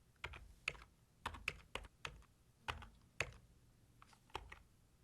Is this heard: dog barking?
no